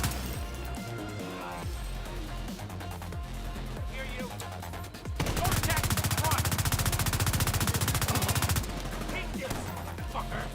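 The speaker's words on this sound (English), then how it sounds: "Gotta get that turret out. It's gonna cut me down." An enemy turret in The Division 2 fires a dense, rapid stream of rounds for several seconds, loud and close, over ongoing in-game combat noise.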